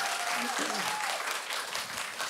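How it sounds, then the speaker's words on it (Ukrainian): Audience applause at a Ukrainian comedy show fills the whole short stretch as a dense, steady wash of clapping, with a little voice briefly audible over it near the start. "Ще трошки оплесків йому."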